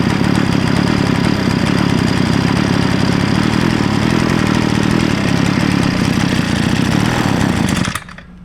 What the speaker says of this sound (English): I guess this is basically a weed whacker motor